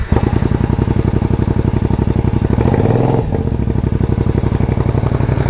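A Triumph Bonneville America motorcycle engine, started with a little choke, runs loud and close with a steady, rapid lumpy pulse, rising briefly in a rev before settling back to a throbbing idle.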